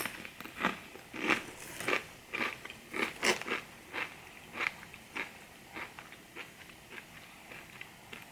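Kroger brand tortilla chips are eaten with a ranch-like spinach dip, giving a steady series of close, crisp bites and crunches at a regular chewing rhythm with no talking.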